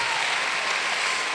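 Applause from a church congregation during a Spanish-language worship service, a dense, steady wash of clapping that fills the whole moment with no pauses.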